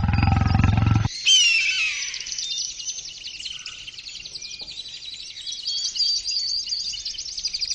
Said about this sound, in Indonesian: Aku yakin itu singa atau harimau pemangsa manusia.